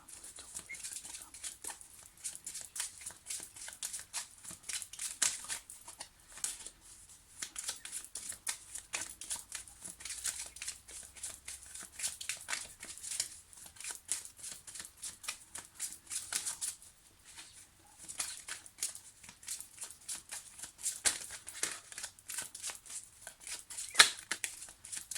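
Tarot cards being shuffled and cut by hand, a steady run of soft riffling and flicking card noises close up with brief sharper snaps, continuing throughout with no talk.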